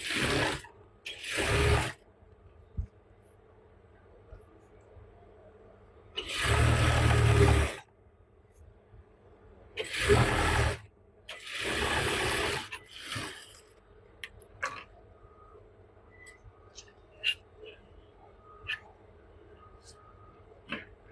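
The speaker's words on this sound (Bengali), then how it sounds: "আমি একটা সেলাই দিয়ে আপনাদের সহজে দেখিয়ে দিতেছি।" A domestic sewing machine stitching a hem on a palazzo pant, heard as several separate bursts of rapid mechanical whirring with quiet pauses between, close and fairly loud, followed by small clicks and handling noises.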